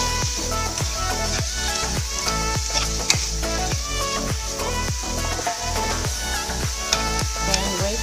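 Beefsteak with red pepper and vegetables sizzles loudly in a hot pan while being stirred, with regular scraping strokes over a constant fry and a faint tonal background.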